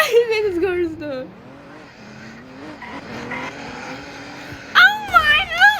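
A car drives in circles on a public road with its engine revving and tires squealing loudly in long wavering bursts, with a sharp squeal near the end; people talk excitedly over it.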